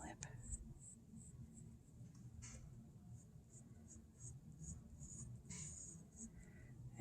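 A pencil sketches a self portrait on paper in quiet, scratchy strokes, soft and close, with short gaps between bursts of shading.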